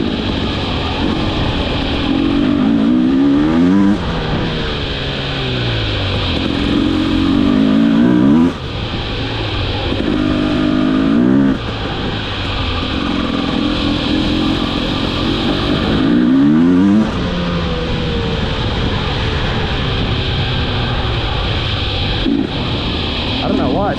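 A brand new TE 300i two-stroke dirt bike, ridden with the engine revving up and dropping back repeatedly through the gears. The loud, close whine runs continuously with no talking.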